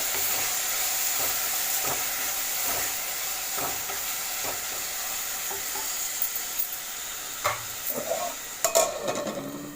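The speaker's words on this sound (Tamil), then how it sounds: "இப்போ இது எல்லாமே சேர்த்து நல்லா வந்து வதக்கிக்கலாம்" Tomato, green chillies and ginger garlic paste sauté in a pan for chicken 65 biryani, giving a steady soft sizzle with occasional stirring scrapes and louder clatters near the end, with no talking.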